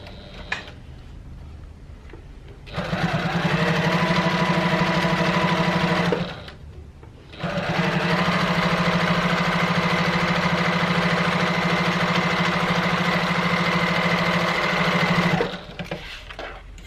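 Sewing machine stitching a quarter-inch seam on a tote bag slip pocket: two long, loud runs of steady, rapid mechanical whirring, about three and eight seconds long, with a short pause between and quiet handling before and after.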